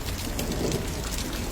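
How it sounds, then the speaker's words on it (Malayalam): Heavy rain pours steadily and loudly during a storm, with a dense close hiss and a low rumbling undertone of thunder beneath it, no voices. "മിന്നൽ, ഇടിവെട്ട്."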